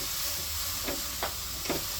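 Onions and garlic fry in a pan with salt and bay leaf, cooked outdoors in a Bangladeshi village, giving a steady sizzle with a few soft scraping stirs spaced about half a second apart.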